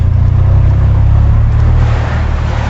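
A Bentley Continental GT with a 500 hp V8 pulls hard up a hill, its deep engine drone loud, steady and close from inside the car, with no talking over it.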